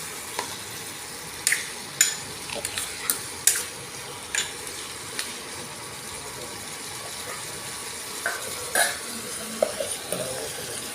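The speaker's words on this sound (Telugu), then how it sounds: "వాటిని కలుపుకొని కరివేపాకు వేసుకోవాలి. కరివేపాకు వేసుకొని కలుపుకోవాలి." Curry leaves stirred into hot oil in a pan, giving a soft steady sizzle broken by scattered scraping clicks and taps of the spoon, close and moderately quiet, with no voices.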